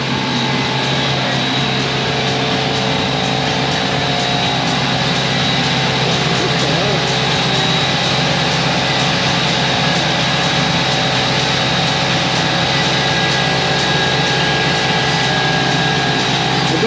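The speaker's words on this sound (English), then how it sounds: "that is one noisy car" Loud, steady roar of a racing car at Brands Hatch circuit, a dense, unbroken engine drone that stays close and constant throughout with no clear gaps.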